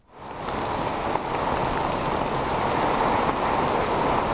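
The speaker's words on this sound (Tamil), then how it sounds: "புதுச்சேரியில் தொடர்ச்சியாக 6 மணி நேரத்திற்கும் மேலாக பலத்த சூறாவளி காற்றுடன் கனமழையானது பெய்து வருகிறது." Heavy rain lashes down with strong cyclone-force wind during Cyclone Fengal in Puducherry, a dense, steady roar of rainfall that holds loud and unbroken from start to finish with no voices.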